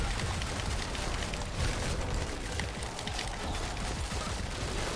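Giant explosions in the Diablo 4 video game, a continuous dense roar of overlapping blasts and crackling bursts, loud and unbroken throughout.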